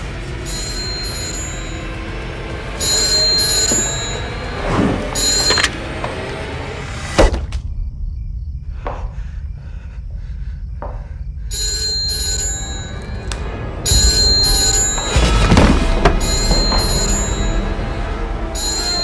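An old telephone bell rings in repeated bursts, loud and close, stopping for a quiet stretch with faint knocks before the ringing starts again and carries on to the end.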